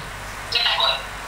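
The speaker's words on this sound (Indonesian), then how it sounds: "Ada telepon masuk." A telephone rings with an incoming call: a single short, bright ringtone burst over a quiet background.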